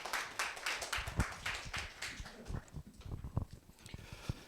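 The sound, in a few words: applause from the congregation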